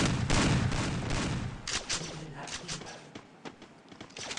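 Gunfire in the Free Fire video game crackles in rapid bursts, dense at first and then thinning into scattered single shots under excited commentary.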